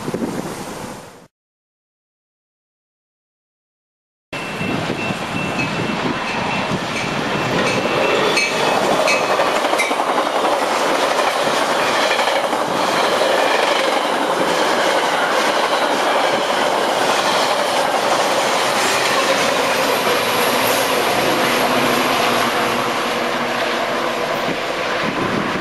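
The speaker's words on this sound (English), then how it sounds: "Metra train approaching your station will be a Metra Express train and will not" A Metra Express commuter train thunders through a station without stopping, a loud sustained roar and rail rumble rising abruptly after a brief silence and staying heavy and close to the end, with faint clickety-clack of wheels and a high squealing tone.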